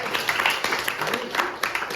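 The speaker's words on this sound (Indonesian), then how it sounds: "tepuk tangan untuk teman-teman" A group of students applauds classmates during a teaching-practice lesson in a classroom, a steady run of mixed hand claps at moderate loudness lasting throughout.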